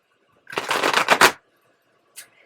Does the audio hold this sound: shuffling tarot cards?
yes